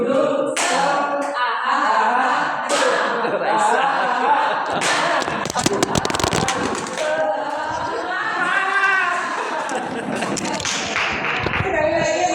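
A group claps along in a rhythmic Indonesian 'tepuk semangat' clap chant, bursts of sharp, bright claps in patterned sequences, mixed with chanting voices in a room.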